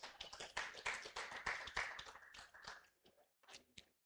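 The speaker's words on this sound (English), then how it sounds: "Clap for yourselves." Scattered audience clapping at an agricultural symposium in Uganda, a few close sharp claps with a loose rhythm that thins out and stops after about three seconds, followed by a few stray taps.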